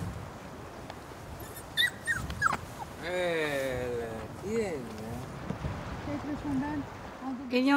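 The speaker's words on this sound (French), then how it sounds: "Ils vont pouvoir sauver ces chiots sans défense." Helpless puppies, four of them, whimpering and yipping in high, wavering cries during a rescue, close and fairly loud, with background noise and movement around them.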